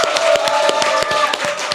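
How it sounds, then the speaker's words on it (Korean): Studio audience applause opening a Korean current-affairs talk show, a steady dense wash of many hands clapping at once, loud and continuous throughout with no voices over it. "국민TV 시사 토크 맘마이스 여러분의 힘찬 박수로 시작하겠습니다."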